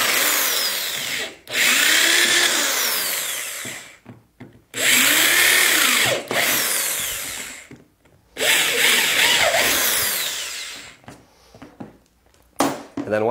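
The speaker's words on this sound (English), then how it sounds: "We're just going to drill 4 holes right in the feet where the holes are already lined up." A handheld power drill bores holes through the feet of a homemade camera dolly, with several loud whining bursts that rise and drop in pitch as the bit bites, separated by short pauses.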